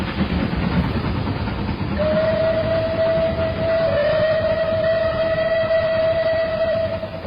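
A steam train rumbles steadily along the rails while a long, piercing steam whistle sounds over it, holding for several seconds before the rolling noise fades out.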